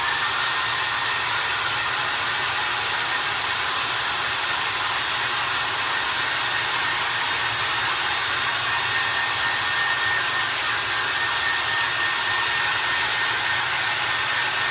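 A hair dryer runs continuously at a high setting while drying a DIY cloche decor piece, a steady loud airy whoosh with no breaks.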